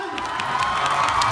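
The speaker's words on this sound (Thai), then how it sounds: "ปรบมือสิครับรออะไรล่ะครับผม" A crowd at a Thai film launch event cheers and shouts in a loud, dense burst, with excited voices and whoops rising over scattered clapping throughout the short moment.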